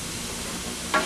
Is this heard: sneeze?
no